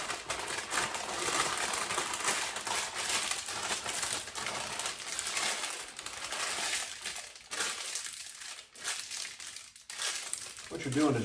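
Parchment paper crinkles and rustles steadily as it is rolled around chipotle and shallot compound butter to shape a log, close and fairly loud throughout, with a person talking over it.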